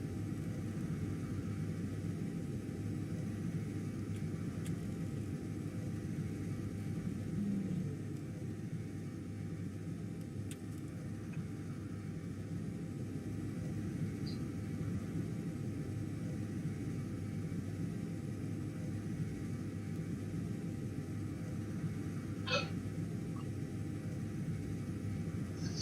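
Spaceship thrusters in the Space Engineers game run near maximum thrust, a steady, dense low rumble that holds unbroken and fairly loud, with a couple of faint higher blips.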